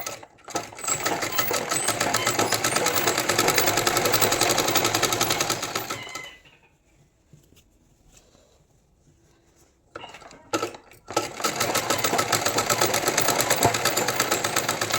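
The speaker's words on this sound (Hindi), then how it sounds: "तब इसको हम ऐसे यहाँ तक सीधी सिलाई लगा देंगे जहाँ तक हमारा ओपन था।" A sewing machine runs a straight stitch along a salwar, loud and steady for about six seconds, then a quiet pause with a few clicks, then the continuous whirring stitching resumes.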